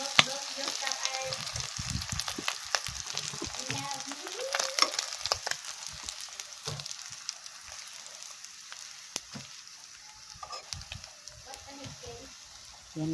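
Small bisugo fish fry in a pan with a steady, moderately quiet crackling sizzle and scattered pops, under intermittent talking.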